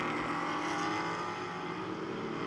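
A GT4 race car engine holds a steady, loud drone during a Pirelli GT4 America sprint race at Road America, continuous and even with no speech.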